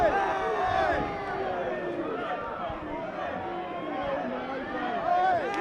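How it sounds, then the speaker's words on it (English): A boxing crowd at a December 2021 fight night roars and cheers after a first-round TKO, a loud sustained wall of voices under excited talk throughout. "The crowd getting really crazy right now."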